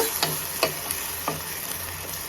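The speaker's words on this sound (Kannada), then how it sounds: "ಇವಾಗ ಇದೆಲ್ಲ ಹಸಿ ವಾಸನೆ ಹೋಗೋವರೆಗೂ ಚೆನ್ನಾಗಿ ಫ್ರೈ ಮಾಡ್ಕೊಳ್ಳೋಣ." Ground masala paste fries in a pan for Kerala kadala curry, a constant sizzle broken by a few sharp spatula scrapes and taps against the pan, close up with no talking.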